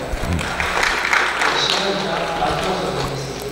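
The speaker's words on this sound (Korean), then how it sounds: "박수 부탁드립니다" Audience applause at a Korean academic presentation on Buddhism and civic education, a continuous wash of clapping from a seated crowd that holds steady throughout, with some voices mixed in.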